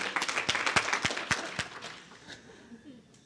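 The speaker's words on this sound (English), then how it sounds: "Round of applause for Debbie Hines" A small audience at a suicide prevention day event gives a round of applause, a short burst of distinct nearby claps that fades out with some voices underneath.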